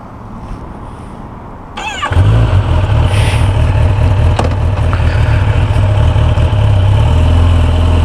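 A 2015 Kawasaki Ninja ZX10R ABS 1000cc sport motorcycle is started after a quiet moment: a brief starter whir, then the engine catches and settles into a loud, steady, deep idle close by.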